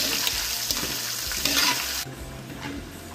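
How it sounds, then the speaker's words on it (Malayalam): Banana chips fry in hot oil while being stirred, giving a steady close sizzle with scraping stirs; the hiss softens noticeably partway through. "നല്ലോണം ഒന്നും കൂടി നമുക്ക് ഇത് ഫ്രൈ ചെയ്തെടുക്കാം"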